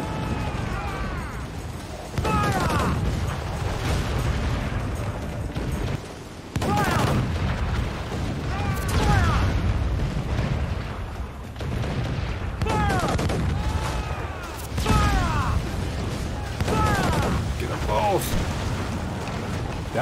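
Mortar fire from a sailing warship in Assassin's Creed IV Black Flag during a naval battle, heavy booming blasts repeating every few seconds over steady roaring noise, with a voice talking throughout.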